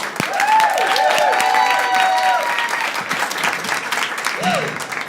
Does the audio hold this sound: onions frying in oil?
no